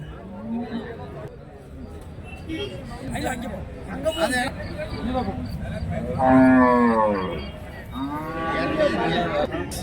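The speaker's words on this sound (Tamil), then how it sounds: "காரிமங்கலம் மாட்டு சந்தைக்கு தான் வந்திருக்கோம்" Cattle at the Karimangalam cattle market in Dharmapuri district give two long, drawn-out moos, one close and loud, amid a busy crowd of people talking nearby.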